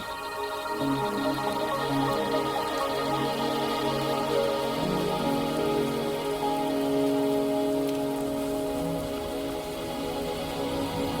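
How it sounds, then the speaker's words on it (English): Rain in the Wuthering Waves video game: a steady wash of falling rain heard throughout, layered under sustained tonal game music with no talking. "Are you trapped here by the rain?"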